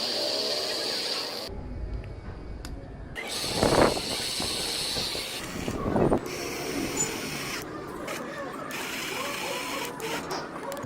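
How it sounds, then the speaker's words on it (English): A 120-watt geared DC motor taken out of an electric bicycle runs on its own with a steady, continuous mechanical whir and hum, close by, with a few brief louder bursts and no talking. "I have extracted the gear DC motor from the bicycle and it is still working pretty good"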